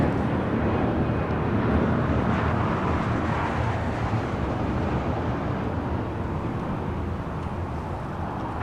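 Airliner at LAX airport, a loud broad jet roar that slowly fades slightly over several seconds, with wind buffeting and no talk.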